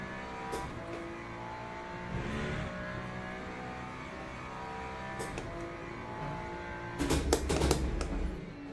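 Ferrari race car engine in the sim racing game Le Mans Ultimate, a steady loud drone of revs held throughout, with a sharper burst of engine and tire noise near the end.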